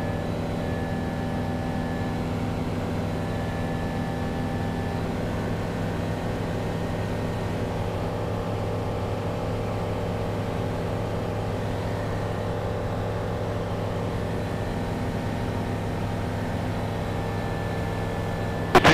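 The engine of a CTLS light aircraft runs steadily in flight between Avignon and Aix-en-Provence, giving a loud, constant droning hum with a faint higher whine, unbroken for the whole stretch and with no talking.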